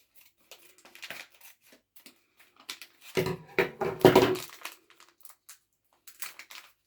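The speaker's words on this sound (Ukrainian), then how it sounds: "Довелося взяти ножиці, бо так не хотіло відкриватись." Scissors snip and a plastic package crinkles as it is cut open at close range, with scattered clicks and rustles followed by a louder burst of crinkling and cutting in the middle.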